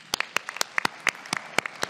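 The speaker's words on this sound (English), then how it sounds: "Let's give them an applause." Scattered applause from a small conference audience at a judicial summit on mental health, a handful of sharp, separate claps spread unevenly over a couple of seconds, fairly quiet and without voices.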